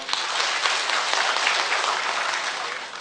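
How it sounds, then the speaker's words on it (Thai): A hall audience at a Thai public lecture on informal labour policy gives a steady, even round of applause, moderately loud and uninterrupted for the full three seconds. "สมควรปรบมือดังๆ ให้ผู้คิดอีกหนึ่งครั้งครับ"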